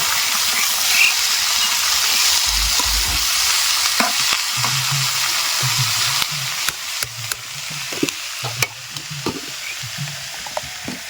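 Sliced bitter gourd fries in hot oil in a pan with a steady loud sizzle, while a utensil stirs and scrapes it in repeated strokes that rise above the frying.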